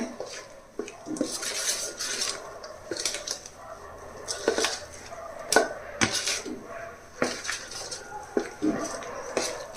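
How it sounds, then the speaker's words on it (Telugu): A spoon scraping and clinking against a pot while ginger pickle is stirred together with chili powder, irregular metallic knocks and scrapes at close range. "కారం వేసిన తర్వాత ఇదంతా బాగా కలిపేయాలన్నమాట"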